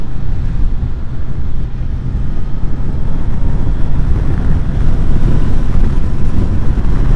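A Suzuki GSX-S 1000GT motorcycle riding through mountain switchbacks on the Grimsel Pass in Switzerland, its engine a loud continuous low rumble buried in heavy wind buffeting, no talking.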